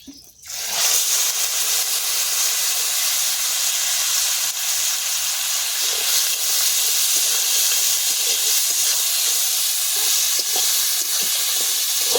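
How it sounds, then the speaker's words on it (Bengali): Crushed onion and tomato hit hot oil with whole garam masala, bursting into a loud, steady sizzle and hiss that carries on unbroken for several seconds. "তেল গরম হয়ে গেছে। তো এবারে দিয়ে দেবো থেতো করা পেঁয়াজ আর টমেটো।"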